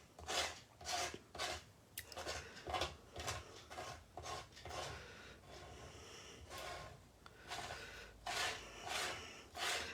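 Paste scraped across a stencil mask on card: rhythmic rasping strokes, close and fairly loud, repeating in steady bursts with short pauses between them.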